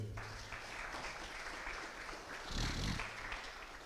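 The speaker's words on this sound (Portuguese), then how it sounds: "Isso é maravilhoso, aplauda o Senhor." Church congregation clapping in praise during a sermon, a fairly faint wash of many hands with a low rumble and a brief louder swell near the end.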